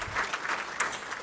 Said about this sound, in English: we want to give her a big round of applause